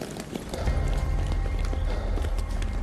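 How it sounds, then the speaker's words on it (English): Running footsteps slap along a street in a quick, steady rhythm, close and fairly loud over a low background rumble, with no voices. "the sound of footsteps echoes through the streets"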